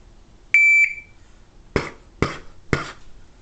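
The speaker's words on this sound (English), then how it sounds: "When I hit go again, it's gonna give me 3 seconds, and then it's gonna beep." Shot timer start beep: one loud, clear electronic tone, briefly repeated, followed by three sharp percussive bangs at an even pace, close up with no talk.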